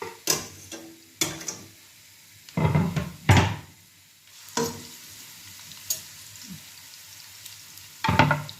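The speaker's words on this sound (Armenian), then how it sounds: "Թողնեմ սոխը տապակվի," Onion frying in vegetable oil with a low steady sizzle, broken by several sharp stirring scrapes and clatters of a utensil against the pan, close by with no talking.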